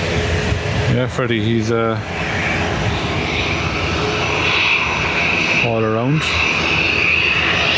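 An ATR turboprop passes nearly directly overhead on its approach into Donegal Airport from the north, a steady broad engine roar filling the whole clip while someone speaks briefly over it twice.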